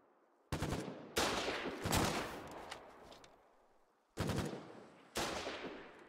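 Battlefield gunfire in the war game Foxhole, several distinct loud bursts of rapid shots, each fading into a brief echoing tail, spaced unevenly over a few seconds.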